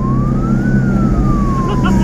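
Ambulance siren wailing steadily under police escort on the road from Garut toward Antapani, a rising and falling tone over loud engine and road rumble, close and continuous.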